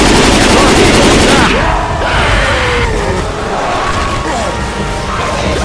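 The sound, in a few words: gunfire in video game Left 4 Dead 2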